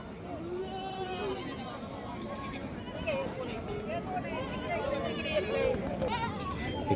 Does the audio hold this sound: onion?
no